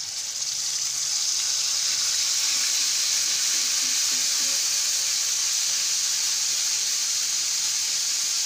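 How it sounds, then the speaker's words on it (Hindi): Ginger garlic paste sizzles steadily in hot oil, a continuous bright hiss of frying that holds even and close throughout. "ऑयल गरम हो गया, इसमें डालेंगे अदरक लहसुन का पेस्ट।"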